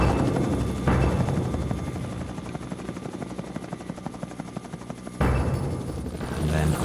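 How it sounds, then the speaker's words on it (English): A United Nations helicopter searches over the jungle with a continuous rotor chop that stays prominent through the whole stretch. Its level shifts only slightly, so it could be approaching from a distance or circling. "A United Nations helicopter has been searching the jungle for them."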